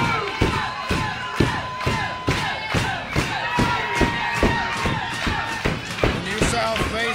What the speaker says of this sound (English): Well, it is clear who the crowd here in Florence, Alabama is cheering for.